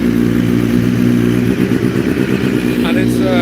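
A BMW HP4 Race superbike engine runs on a cold day at Jerez, a loud, steady low throb that holds throughout with a brief blip of revving near the end.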